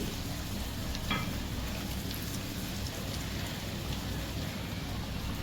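Shahi chicken cheese rolls, five at once, frying in hot oil, giving a steady dense bubbling sizzle that holds evenly throughout with no voices.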